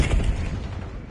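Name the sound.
cluster grenade explosion in a Call of Duty video game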